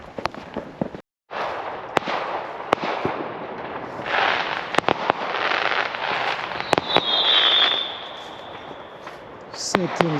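Fireworks exploding on Bonfire Night near a park in Derby, sharp distant bangs and cracks scattered through the clip over a constant outdoor rumble, with a whistling rocket toward the end and voices nearby.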